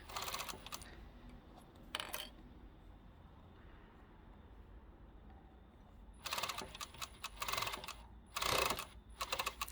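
An overlocker serges scrap fabric for a small pocket tissue pouch, giving several short bursts of rapid mechanical chatter separated by quiet pauses, close and fairly faint.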